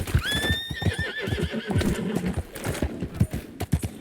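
A horse in Red Dead Redemption 2 whinnies loudly near the start, its call rising and wavering, while steady clip-clopping hooves pound throughout in a quick rhythm beneath it.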